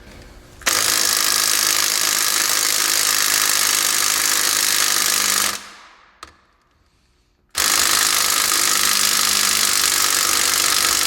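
A DeWalt DCF813S2 12V 3/8-inch cordless electric impact tool working on fasteners: a loud, steady hammering whir runs for about five seconds, cuts out briefly, then starts again just as strongly.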